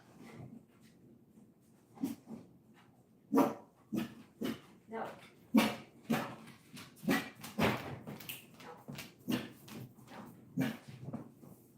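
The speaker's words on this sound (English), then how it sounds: "my dog's barking, so that means there's a 50-50 chance someone's pulling up my driveway" A dog barks repeatedly in a series of sharp, loud yaps and whimpering yips, fairly close, with a brief quiet stretch before the barking picks up into a steady run; a person's voice may mix in at times.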